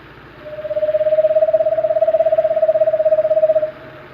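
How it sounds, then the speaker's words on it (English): An Eastern Screech Owl gives a single loud, close, sustained trill, a rapid, even run of pulses on one pitch lasting about three seconds against a quiet background. "Eastern Screech Owl."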